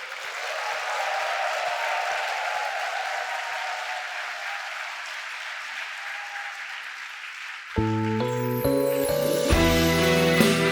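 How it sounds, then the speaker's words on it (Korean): Applause from a television studio audience greets a trot singer's entrance, a dense steady wash of clapping that runs for about eight seconds before a band strikes up loud sustained music over it. "나오실 때 큰 박수로 환영해 주세요."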